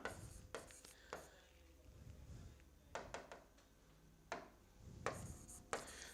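A pen writes out a math equation by hand during a Class 10 real numbers lesson, giving quiet scratchy strokes in short bursts with pauses between them, faint and close, with no talking.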